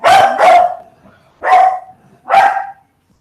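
A dog barks four times nearby, loud and sharp, with a quick double bark followed by two single barks spaced about a second apart.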